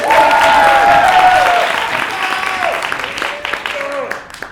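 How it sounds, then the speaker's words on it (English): Audience at an improv comedy show applauding loudly at first, then tapering off, with cheers and voices mixed into the clapping. "A huge round of applause."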